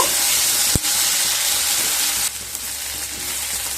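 Garlic cloves and roughly cut onions sizzle steadily in hot oil for a prawn bharta, a close hissing fry with a sharp knock of a utensil early on and the sound softening slightly midway.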